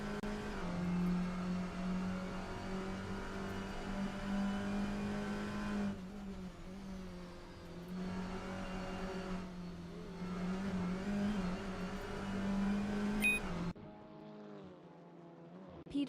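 A touring car engine drones steadily in a racing sim on an out lap through a corner, with a loud sustained tone shifting as gears change, then dropping off sharply near the end.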